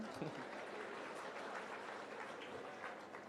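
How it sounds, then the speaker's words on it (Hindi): Crowd applause at an outdoor religious discourse gathering in Indore, a steady dense wash of clapping from a large audience, fairly distant and even throughout. "अच्छा, जोरदार तालियां"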